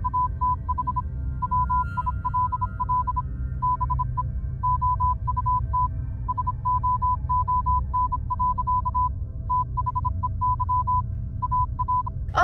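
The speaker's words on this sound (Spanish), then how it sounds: "se escucha como una clave morse, del ti, ti, ti, ti, ti, ti" Steady pulsing electronic beeps in a Morse-code-like pattern of short repeated tones, running continuously over a constant low hum with brief gaps between groups.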